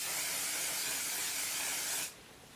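Makeup setting spray released from an aerosol can onto a face, one long continuous bright hiss lasting about two seconds at close range before cutting off abruptly into quiet room tone.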